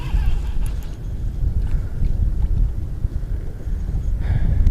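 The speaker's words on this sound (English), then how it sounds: "That wind." Steady, loud wind buffets a microphone aboard a fishing boat on the Potomac, a constant low rumbling roar with slight gusting swells throughout and no clear talk.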